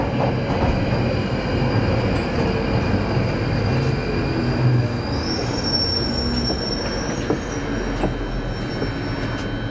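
A London Underground train at Charing Cross station gives a loud, continuous rolling rumble, with high metallic wheel squeal rising partway through and no talking.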